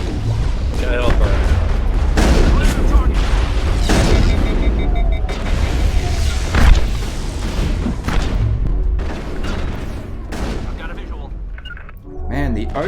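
Shotguns fire in Mass Effect in a run of loud, booming blasts that come in close, irregular bursts over a rumbling backdrop, then thin out toward the end.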